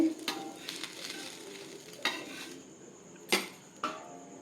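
A sago dosa cooks on a pan with a faint steady sizzle, broken by a few sharp nearby scrapes and clinks of a utensil against the pan, with no voices.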